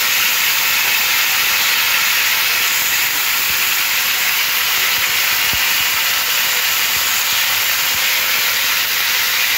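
Potato and cauliflower pieces fry in hot oil with a steady, dense sizzling hiss that holds evenly throughout, close and fairly loud, with no talking.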